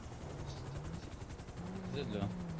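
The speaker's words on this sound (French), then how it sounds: "Vas-y, bouge ton hélico, s'il te plaît." A helicopter in a role-play video game whirs with a steady rhythmic rotor chop at low level, heard under voices talking over it.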